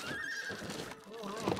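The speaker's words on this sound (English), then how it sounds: "You know what the horse says?" A horse neighs in the video game It Takes Two, a faint whinny with a hoof clip-clop over quiet game background and a voice.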